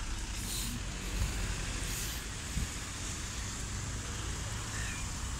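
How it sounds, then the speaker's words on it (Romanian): A city bus passing on a street in Târgu Mureș, Romania, heard as a faint, steady low rumble of engine and road noise with a brief hiss like an air brake, no talk. "Uite un autobuz."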